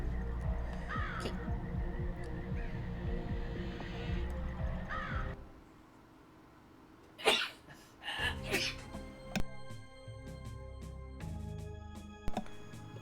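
A person sneezes a few times in quick succession, loud and close, followed by quieter sounds of breath and a soft chime-like tone in the background.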